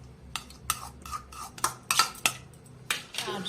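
A spoon or fork clinks briskly against a bowl, beating an egg mixture with minced meat, chopped ginger, garlic, chilli, onion, salt, turmeric and ground pepper for a pizza-style omelette. Irregular sharp taps, close by, with no voices.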